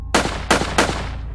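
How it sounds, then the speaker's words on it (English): Three sharp gunshots ring out one after another at an even pace, loud with a brief echoing tail after each, with no talking over them. "More gunshots."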